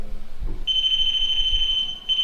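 An electronic alarm tone from a REM pod ghost-hunting device tucked inside a bear at Michigan's Fort Gratiot Lighthouse starts after a short low rumble, holding a sustained high beep close by, with a brief break near the end.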